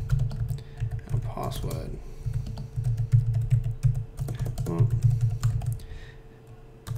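Fingers tap out a command on a computer keyboard in quick bursts of crisp key clicks, with someone speaking briefly over the typing and a faint steady hum behind.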